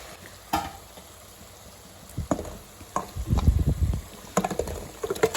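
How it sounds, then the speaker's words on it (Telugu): Marinated chicken is tipped into a hot pan with tomatoes for Nanded-style tahari. Scraping and stirring come in short, uneven bursts, rising in the middle and again toward the end, with a light sizzle underneath and no talking. "తీసుకున్న తర్వాత మ్యారినేట్ చేసుకున్న ఆ చికెన్ని మొత్తం ఇందులో వేసేసుకోండి"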